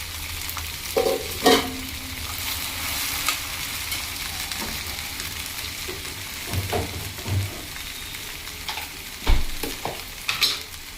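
Sliced okra sizzles steadily in hot oil over a medium flame, Andhra-style fry, broken by a few scraping stirs and clicks of a utensil against the pan.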